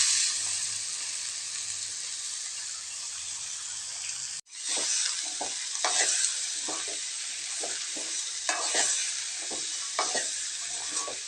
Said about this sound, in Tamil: நல்லா கிளறி விட்டுக்கலாங்க